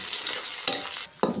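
Onion hits hot oil already tempered with dried red chillies, kalonji and cumin in a home kitchen, sizzling and crackling steadily with two sharp bursts of fresh frying noise and no talk.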